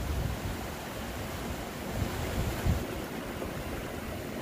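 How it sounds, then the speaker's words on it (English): Water flows steadily under a bridge in a garden in Lititz, Pennsylvania, giving a continuous broadband rush with a few soft splashes and some wind. "Water's flowing very well"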